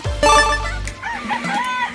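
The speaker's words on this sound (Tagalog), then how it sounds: "Magpapakain tayo ng mga manok." Chickens cluck and cackle close by in a short, busy burst at feeding time, with a low hum underneath and a voice briefly mixed in.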